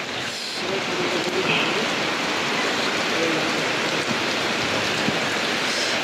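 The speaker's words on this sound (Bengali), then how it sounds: "বৃষ্টি নেমে এসে দেখতে পাচ্ছেন" Rain falls in a steady close patter and hiss, continuous and even from start to finish, with no speech heard.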